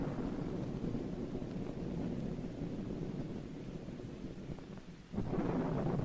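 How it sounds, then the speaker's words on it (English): Deep rolling thunder from a storm at night rumbles steadily and fairly loud through the whole stretch, with a sharper low burst near the end, heard alone without voices. "Thunder."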